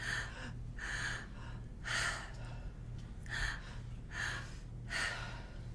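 Breathwork inhales repeat in a two-part pattern, belly breath then heart breath, with five or so audible airy gasps spaced about a second apart, close and fairly quiet over a low hum.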